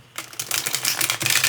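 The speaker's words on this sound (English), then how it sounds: "these shuffle very nicely" A deck of Hermetic Tarot cards is shuffled close up. The cards give a dense, crisp riffling flutter in quick repeated bursts, with no talking.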